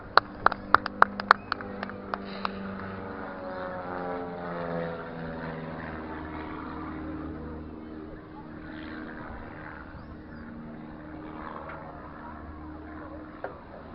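Propeller aircraft flying aerobatics at a seaside air show, a steady droning engine with shifting pitch as it passes, preceded by a few sharp clicks and accompanied by faint crowd and announcer talk.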